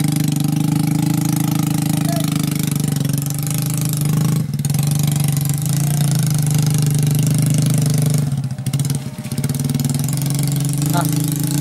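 A modified motorcycle taxi used for hauling rice grain runs steadily and close, a continuous low rumble with a brief dip, while voices talk faintly over it.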